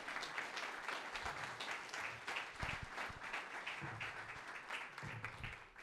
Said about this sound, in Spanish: Un aplauso a los dos voluntarios.